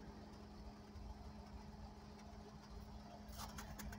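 Low, steady idle from a Lincoln Continental Mark IV's 460 V8, running evenly with no stumbles. The rumble holds through the whole stretch, and a few brief ticks and rattles come in near the end.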